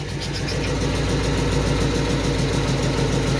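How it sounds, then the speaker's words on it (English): A steady Jeep SRT8 engine idling close by with an exhaust leak, a rough, rhythmic low chuff and faint ticking pulses running throughout. "And that's an exhaust leak."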